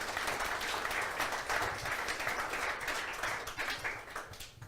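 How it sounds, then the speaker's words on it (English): At a tech talk, an audience applauds the speaker after a presentation on building a fintech application: a dense, steady patter of many hands, fairly soft and distant, thinning slightly toward the end. "please give a huge round of applause for Artur"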